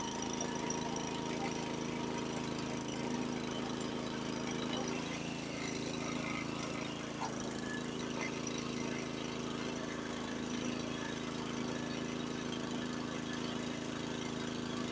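A warmed-up Honda snowblower engine runs steadily at a constant drone, close and unbroken, with no talk over it.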